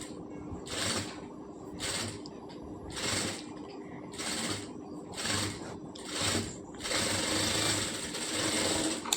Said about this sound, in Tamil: இதே மாதிரி இன்னொரு ஸ்லீவும் நம்ம ஸ்டிச் பண்ணிக்கலாம்.